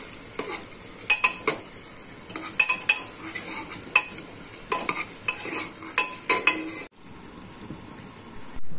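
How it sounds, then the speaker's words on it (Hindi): Chopped onions sautéing for masoor dal, stirred in a pan with repeated scraping and clinking of a utensil over a steady sizzle, close and fairly quiet, no talk. "हम हल्का सा सॉटे कर लेंगे प्याज"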